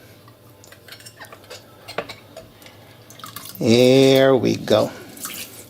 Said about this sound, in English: To the water now, I am going to add the juice of half of a lemon, just like so.